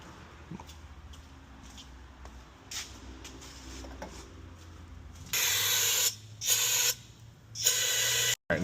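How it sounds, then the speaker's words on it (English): Brake cleaner is sprayed on a 2018 New Holland L218 skid steer during an oil change, sounding as several loud, hissing aerosol bursts of a second or so each near the end, after a quiet stretch of faint clicks and handling. "And we'll spray this down with some brake clean."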